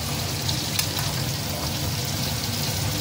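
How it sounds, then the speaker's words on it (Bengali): Bitter gourd pieces coated in salt, turmeric and sugar fry in hot oil, giving a steady, even sizzle throughout at moderate volume, with no voices. "এটা একটু নুন হলুদ আর চিনি মাখিয়ে রেখেছিলাম, ওটা দিয়ে ভাজছি"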